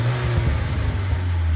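A 2013 MINI Cooper S in sport mode sounds close and steady, its engine tone mixed with irregular little exhaust pops and burbles over a short stretch.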